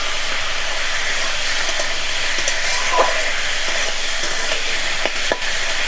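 Loud, steady sizzling of meat and onions frying in a pan, fat melting into oil, with occasional scraping stirs.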